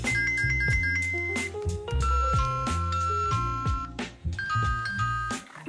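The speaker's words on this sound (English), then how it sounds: "you can adjust the volume and ringtone directly on the chime." A UNV wireless doorbell chime cycles through bright melodic ringtones, a series of clear bell-like notes and ding-dong phrases in quick succession, loud and close with no voices.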